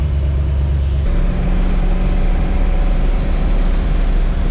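A car with a turbocharged LS V8 on a journal bearing turbo drives along, its deep engine drone and road roar loud and constant, with a low-frequency shift near the start, no voices.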